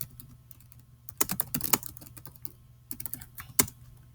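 Quick bursts of keystrokes on a computer keyboard, close and fairly quiet, with pauses between the short typing runs and no voices.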